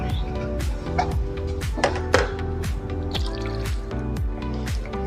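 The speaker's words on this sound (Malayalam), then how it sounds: "ഇതിനകത്ത് വെള്ളം ഒഴിച്ച് നോക്കാം" Water trickles and drips into a hollow plastic lunch container, a steady run of small splashes and plinks with rising, bubbly tones.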